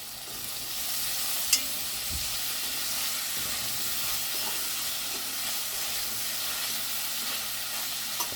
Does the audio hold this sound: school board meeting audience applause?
no